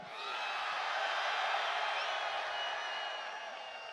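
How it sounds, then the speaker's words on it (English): A large crowd at a Bernie Sanders rally in Brooklyn cheers and whoops steadily, a sustained roar at moderate distance with no single voice standing out. "What an incredible crowd."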